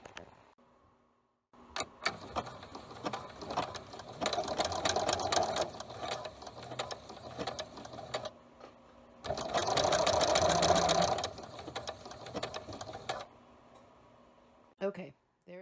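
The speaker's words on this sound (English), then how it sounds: "I'm going to mark those and then sew my buttons on" A sewing machine stitches buttons onto a handmade shirt, running in two sustained close whirring bursts with a pause between; a person talks over the quieter stretches.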